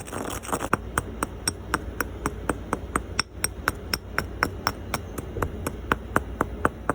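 Lapis lazuli stone is ground to powder with a pestle, making a steady run of sharp, ringing taps at an even quick rhythm, close and clear over a low background hum, with no talk.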